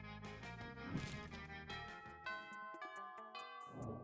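A ding-dong chime plays in the video game Monster Prom, a quiet series of clear tonal bell notes with ringing harmonics over soft background sound.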